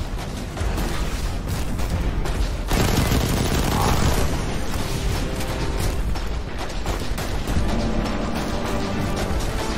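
In the video game Destiny 2, gunfire is aimed at a wall and keeps up as dense continuous shooting and impacts, loud and unbroken for nearly ten seconds, with heavy crashing texture.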